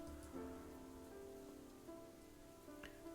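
Rain falling in a video game, a steady soft patter of drops on surfaces, faint and even, with a low tonal hum running beneath.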